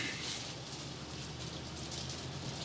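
Morning rain falls in a steady, even hiss of fine drops from close by, filling the moment without pause. No one is speaking.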